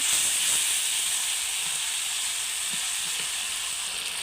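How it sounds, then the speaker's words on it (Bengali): Mutton with chili paste and ginger-garlic paste frying in a pan, giving a steady, close, fairly loud sizzling hiss that holds evenly throughout, with no talking. "এখন দিয়ে দিব লঙ্কা বাটা আদা রসুনের পেস্ট সব কিছু একসাথে দিয়ে দিয়েছি"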